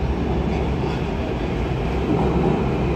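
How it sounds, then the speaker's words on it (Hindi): A metro train on the last run of the day rumbles along steadily, a dense, loud ride noise of wheels and car body heard from inside, with no talk over it. "तो ये लास्ट मेट्रो है आज की"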